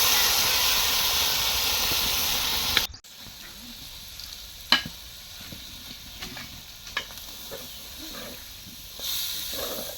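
Rice and lentils fry with spices in a pan for a thin khichuri made with goat fat and chicken. A loud, dense sizzle drops suddenly to a quieter hiss broken by a few scraping stirs and clinks.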